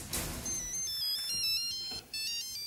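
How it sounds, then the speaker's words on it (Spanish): Mobile phone ringtone chiming in a bright repeating electronic melody, fairly loud and steady for a few seconds with a brief dropout near the end, no talking over it. "¿No escuchás que te está sonando el celular?"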